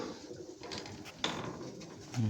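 Breeding-season pigeons in a loft coo softly amid low background noise and faint rustling, the calls close but quiet.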